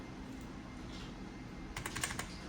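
A handful of quick keystrokes sound on a computer keyboard as commands are typed and Enter is pressed. The clicks are faint and close, bunched near the end over a low room hum.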